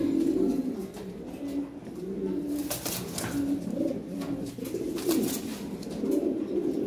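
Fancy pigeons fill a large cage with close, steady cooing and soft fluttering rustles from shifting wings. Bursts of movement break in near the middle and end.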